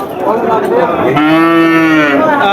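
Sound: cattle mooing at a cattle market

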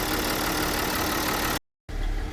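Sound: car engine started and idling

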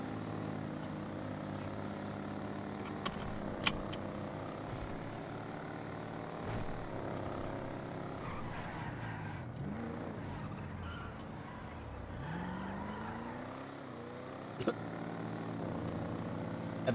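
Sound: propeller airplane engine in video game

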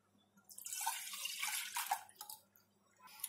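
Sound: milk being poured into a saucepan

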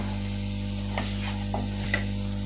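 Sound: chicken being sautéed with turmeric and salt in pan

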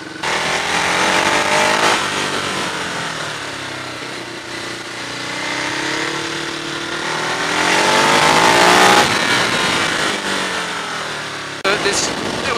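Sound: 2015 Ducati Hyperstrada motorcycle riding on the road

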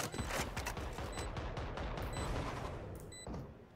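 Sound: gunfire in the video game Valorant

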